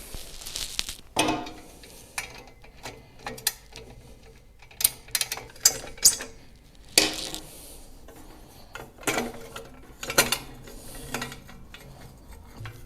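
A ratchet wrench loosens a 1/2-inch nut on the exhaust crossover bracket of a 2015 Harley-Davidson Street Glide, giving close, irregular bursts of metallic clicking and clanking with short pauses between.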